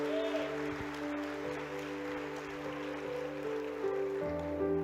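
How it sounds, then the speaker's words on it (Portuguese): A church congregation applauds during a sermon, a steady rain-like wash of clapping over sustained keyboard chords that shift near the end, with no speech. "Quem vai aplaudir ele aqui?"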